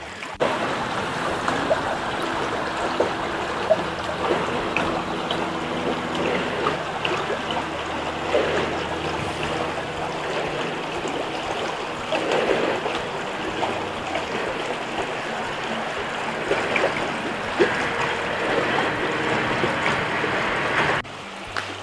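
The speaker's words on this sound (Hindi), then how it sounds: "ये पहाड़ों से बहता हुआ पानी आ रहा है" Water from a mountain stream rushes steadily over rocks in a continuous, full-bodied flowing roar, close and unbroken.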